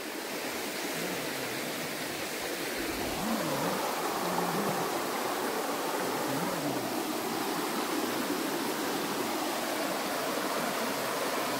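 Sivakona waterfall and the river beside it at Rapur pour in a dense, steady roar of rushing water, close and constant throughout, with no talking.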